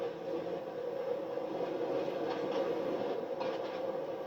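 Heritage train running in a train simulator video game, a steady quiet rumble of wheels and engine, continuous and even throughout.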